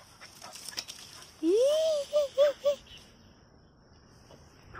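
A dog on a rural farm gives a brief whimper: one rising whine followed by three short whining notes, over quiet outdoor ambience.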